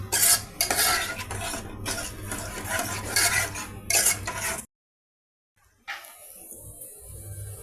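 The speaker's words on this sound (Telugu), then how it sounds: "టామరెడ్ జ్యూస్ వాటర్ అన్నీ కలిసి ఏ విధంగా మరుగుతున్నాయండి." A spoon stirs tomato rasam with tamarind juice, water, salt, chilli and turmeric as it boils in a pot, giving steady scraping and clinking. The sound cuts to silence partway through, then returns as a softer bubbling hiss.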